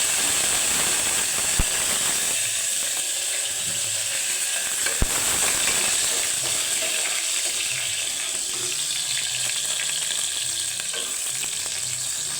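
Onions, chillies and curry leaves sizzle steadily in hot oil with popped mustard seeds in a pan for tomato rice, a loud, continuous hiss with occasional stirring clinks.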